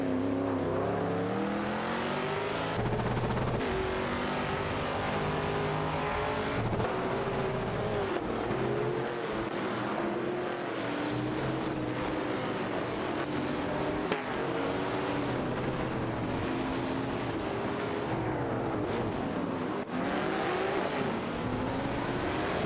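Race cars in an AI-driven racing video game, including a Maserati Bora Competizione, roar continuously and loudly, with engine notes rising and falling through gear changes as cars jostle for position.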